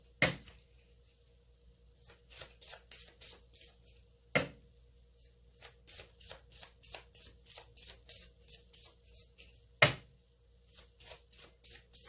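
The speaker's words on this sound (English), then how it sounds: "Third shuffle, and I'll take the next one." Tarot cards being shuffled by hand, quick bursts of riffling flicks with a few sharper slaps of the deck, close and clear with no talking.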